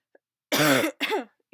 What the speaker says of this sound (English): Even though I'm coughing still,